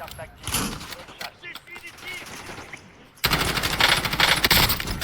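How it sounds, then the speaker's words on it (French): Rapid gunfire rattles in a Call of Duty match, with scattered shots first, then a loud dense burst of automatic fire in the second half, over background game noise. "Je me suis pris un coup de fusil à pompe par un vrai joueur"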